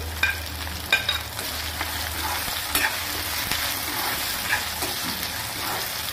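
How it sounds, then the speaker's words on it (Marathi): Capsicum and tomato sizzle and fry in a pan with steady crackling, while a utensil stirs and scrapes with occasional clinks, close and continuous. "शिमला मिरची छान फोडणीत परतल्यानंतर"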